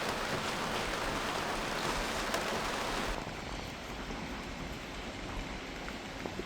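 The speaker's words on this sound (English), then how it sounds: "soon the rain starts pouring" Heavy rain pouring down in a Mediterranean harbor, a dense, steady hiss of drops on surfaces that eases slightly partway through and continues without pause.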